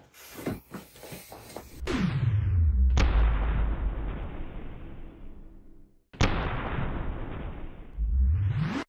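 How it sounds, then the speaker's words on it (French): Three loud firecracker blasts go off close by, each a sharp bang followed by a long rumbling echo, with the second and third separated by a pause. "je vais faire péter ces 3 pétards"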